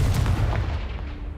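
A Confringo fire spell explodes in the Hogwarts Legacy video game. It gives a loud, booming, gunshot-like blast that fills the short moment and then fades into a rumbling tail.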